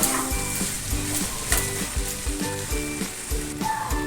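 Bengali-style mutton curry fries in a pot, a continuous loud sizzle with repeated spoon stirring and scraping strokes in a steady rhythm, close up and with no talking.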